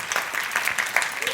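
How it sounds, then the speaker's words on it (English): An audience applauds in a dense patter of many hands clapping, moderately loud and steady throughout the short burst, with no voice over it. "it's nice of you to clap for that"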